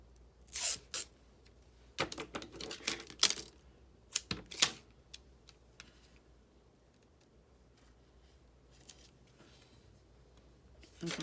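Tape is pulled and handled on a grounding wire during a front and rear panel installation: a few short crackling, tearing bursts separated by quiet pauses, close and fairly faint.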